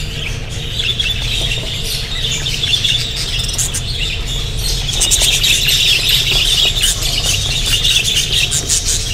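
Caged birds being handled during pairing of females with new mates squawk and chirp in sharp, repeated bursts over a steady low hum, growing busier and louder in the second half.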